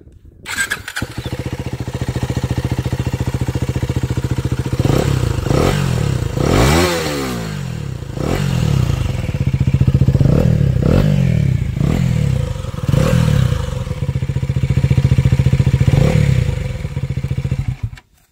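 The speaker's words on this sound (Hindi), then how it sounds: "कुछ इस तरह का इसका एग्जॉस्ट साउंड है" A KTM Duke 250 motorcycle with a slip-on Rogue barrel exhaust cranks and settles into a steady, throaty idle with repeated blips of the throttle, close by and fairly loud.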